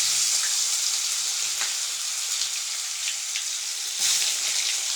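Whole spices with ginger garlic paste sizzle steadily in hot oil, a constant close hiss with small crackles and pops, no voices over it.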